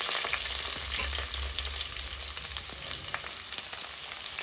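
A bay leaf, green chillies and onion sizzle and fry in hot oil in a pan, giving a continuous close crackle with scattered pops and no talk.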